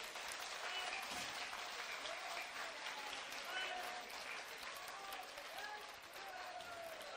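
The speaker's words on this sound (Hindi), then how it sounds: "तो ताली बजाओ हु के नाम पे।" Applause rises from an audience at a religious discourse gathering, a broad wash of clapping heard faintly and at a distance. Voices and tonal sounds run through it.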